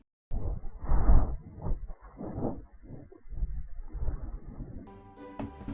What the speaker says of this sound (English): all you need to pay attention to is the breathing now